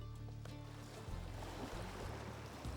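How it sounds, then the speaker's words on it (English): Waves crash against a point on the New Jersey coast as a steady low surging roar, with wind rumbling across the microphone and no voices. "Waves really crashing off this point up here"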